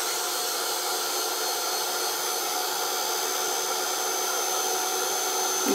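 A heat gun drying a card tag in a papercraft stamping project gives a steady, loud, airy blowing hiss with no breaks, running alone throughout.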